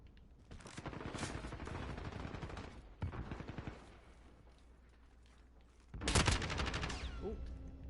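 Gunfire from Call of Duty: Modern Warfare, with dense bursts of rapid automatic shots in several clusters separated by quieter pauses and a loud final burst near the end.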